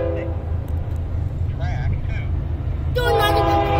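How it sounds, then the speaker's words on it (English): A CSX freight train hauling boxcars approaches along the track at Gaithersburg, rumbling low and steady with a horn toot near the end. People talk over the rail noise. "I see a bunch of boxcars coming this way."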